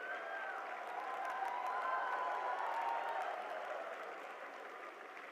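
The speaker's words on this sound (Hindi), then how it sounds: "ये तालियां आपके जोश और गर्व का प्रतीक है, इसे थमने मत दीजिए।" Sustained applause from a large audience in a hall for Prime Minister Modi's speech to young people at Bharat Mandapam, swelling to a peak midway and then easing slightly, steady dense clapping throughout.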